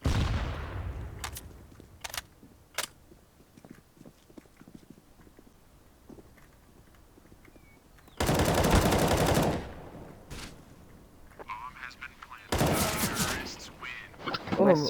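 Counter-Strike: Global Offensive gunfire: two loud sustained bursts of automatic fire set between scattered single clicks and light in-game sounds, no voices over them.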